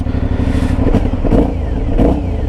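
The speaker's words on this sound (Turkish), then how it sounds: "Egzoz falan patır patır çok zevkli." Exhaust of an Aprilia Shiver 900 motorcycle with an 896 cc engine, a deep, loud, close burbling rumble with uneven throttle blips and popping pulses.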